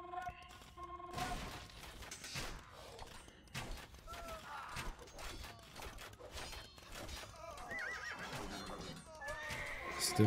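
Horses neigh and whinny repeatedly in an Age of Empires 2 match, mixed with clip-clop hooves and clattering battle effects, moderately loud over busy game sounds.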